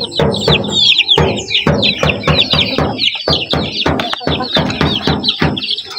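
Native chickens and chicks in a backyard, loud close clucking and cackling calls in quick repeated bursts, with thin chick peeps between them.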